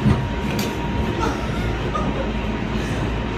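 Steady rumble and rattle of a moving train in Japan, a constant loud drone heard from inside the carriage with no clear breaks.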